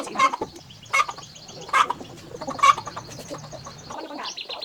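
Chickens and a rooster cluck at a rural Vietnamese farm in about four sharp, close bursts spaced roughly a second apart, with softer fowl chatter in between and no speech.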